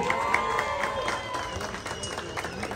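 An audience at a Larissa coffee show event applauds and cheers for a DJ, steady moderate clapping with scattered whoops, heard at some distance.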